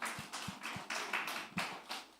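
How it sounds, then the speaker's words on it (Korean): Scattered claps from a small church youth-service audience, faint and uneven, with a few distinct hand strikes over a broadband rustle and no talking. "박수 한번 쳐주세요."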